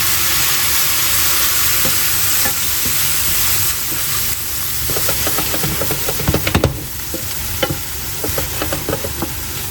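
Vegetables sautéing in a pan for pasta, a steady loud sizzle and hiss with occasional stirring scrapes and clicks, lemon going in partway through.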